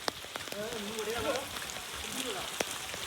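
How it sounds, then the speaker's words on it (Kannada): Heavy rain patters steadily in the background at a wedding near Badami temples while a person talks over it, with an occasional sharper drip or tap standing out and thunder. "ಇನ್ನೂ ಮಳೆ ಬರ್ತಾ ಇದೆ"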